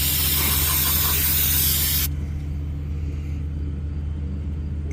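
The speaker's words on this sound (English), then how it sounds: "Just spray it down on there good, get all any grime off there." Cleaner sprays forcefully onto Dodge Ram brake parts for about two seconds, a loud close hiss that cuts off abruptly, leaving a low engine rumble idling in the background.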